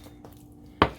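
A single sharp knife chop lands on a whole chicken being cut into pieces for curry, one loud close impact near the end after quiet kitchen background.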